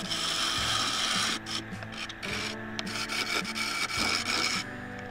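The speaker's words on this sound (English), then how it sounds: "I pulled out the round nose scraper again" A round nose scraper cuts a wooden bowl spinning on a lathe, giving a loud, steady rasping scrape with brief breaks and shifts in pressure.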